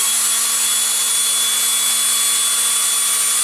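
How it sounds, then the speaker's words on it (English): An 18 volt cordless drill overdriven by a 24 volt battery, whirring at a constant high pitch with a steady motor whine, close and loud, running continuously without pause. "hook this 24 volt battery up to this 18 volt drill"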